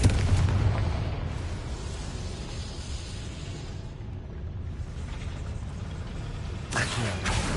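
A Confringo fire spell explodes in Hogwarts Legacy with a sustained low, rumbling roar, ending in a brief crackling burst.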